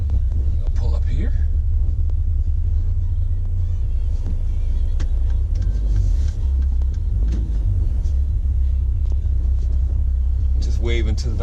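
A 2017 Mercedes-Benz SL450 drives along with a steady low engine rumble and road noise throughout, near and constant, with occasional faint wind and brief background sounds.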